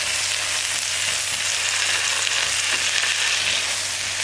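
Garlic sizzles steadily in a pan with butter and mushrooms, a close, even hiss of frying with faint stirring and no voices throughout.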